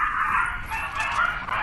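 Dogs in the background yipping, whimpering and barking in short bursts over a continuous hiss, with no talk over them.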